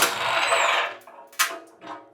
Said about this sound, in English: It's a 21mm bolt. We're going to loosen it and remove it.